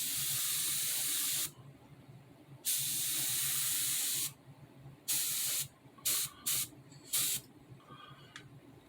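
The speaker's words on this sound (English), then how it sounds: "all I did was sprayed enough on there just to kind of give it a coat" Spray paint hisses onto a model car chassis in bursts, two long sprays followed by several shorter quick blasts, close and clear over a quiet room.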